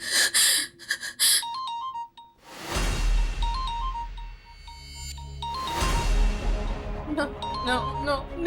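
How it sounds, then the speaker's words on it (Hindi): A melodic phone ringtone chimes over and over in a horror show, mixed with swelling dramatic music and whooshing effects. "नो नो, निखिल का फोन नहीं हो सकता।"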